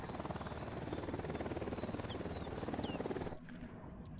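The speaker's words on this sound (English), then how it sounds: "Yeah, you can use a chopper and parachute." A helicopter in the video game Ghost Recon Wildlands gives a continuous rotor thrum with a dense engine drone, steady and fairly loud, cutting off abruptly near the end to quieter game ambience.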